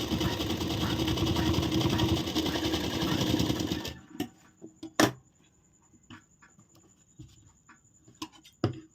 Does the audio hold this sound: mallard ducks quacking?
no